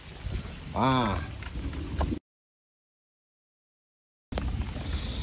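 Steady patter of rain on a surface, broken by a short gap of silence, with a brief voice rising over it near the start.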